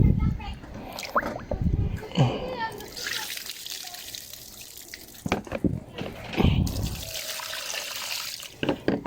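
Water is scooped and poured at an outdoor provincial Philippine kitchen while cleaning fish, with splashes and trickles in bursts between quieter pauses, up close.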